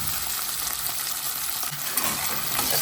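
Pavta beans fry in hot oil in a wok under a lid, giving a loud, continuous crackling sizzle that stays dense and close from start to finish, with no voices.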